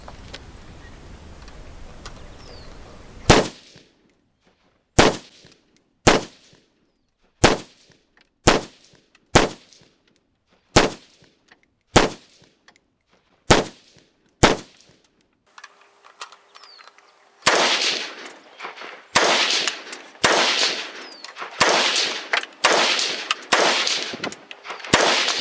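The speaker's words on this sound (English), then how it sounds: "now, this is a typical one-handed operation pistol" A semi-automatic one-handed pistol fires about a dozen sharp, evenly spaced single shots at an outdoor range in Shiocton, Wisconsin, then a faster run of loud shots follows near the end.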